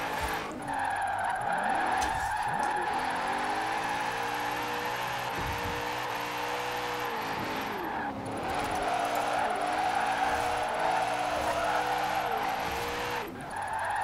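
A low-budget drift-build car in Forza Horizon 4 revs hard through continuous drifting, with a rising and falling engine note and long tire squeals sliding through corners, steady and loud throughout.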